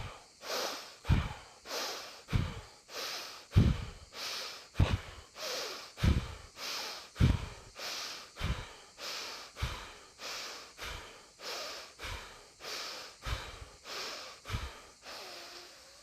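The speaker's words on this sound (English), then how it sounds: "This time only through the nostril. In breath, out breath, in your rhythm, 7 to 15 times." Pranayama yoga breathing through the nostrils, with about seventeen forceful nasal inhale-exhale cycles repeating at a steady rhythm, close and clear with no talking.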